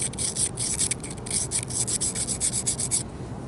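A blade sharpened back and forth along its bevel on an oiled stone, a steady close rhythmic rasping of quick strokes that stops near the end, with no talk.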